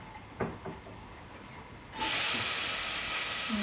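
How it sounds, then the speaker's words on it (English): Onions and garlic drop into hot sunflower oil in a pan and start frying, a sudden loud, steady sizzling hiss that follows a couple of light clinks. "I'm going to fry the onions and garlic in there"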